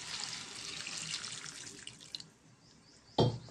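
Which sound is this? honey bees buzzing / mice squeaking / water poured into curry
water poured into curry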